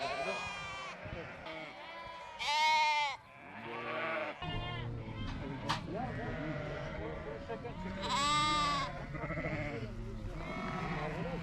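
Lambs and sheep on a milk run bleat repeatedly and loudly at close range, overlapping cries rising in bursts while people laugh and talk nearby.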